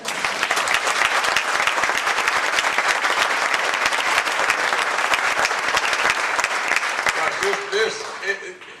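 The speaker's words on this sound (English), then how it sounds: "Now you can clap really bad, really high, really hard for that." A large conference audience gives long, loud applause, a thick, continuous wash of clapping with faint voices underneath, tapering off in the last moments.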